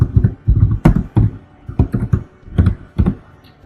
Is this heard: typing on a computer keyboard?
yes